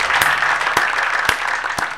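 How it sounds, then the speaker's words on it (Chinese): A few sharp hand claps at a steady rhythm, standing out over a continuous bright noisy background. "我要鼓掌了。"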